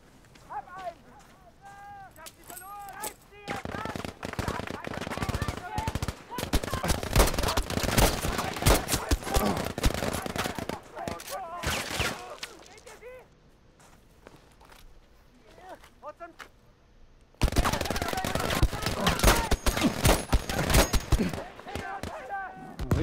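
A big machine gun in a video game fires in long, loud rattling bursts of rapid shots, pausing briefly between bursts, while someone talks over the gunfire.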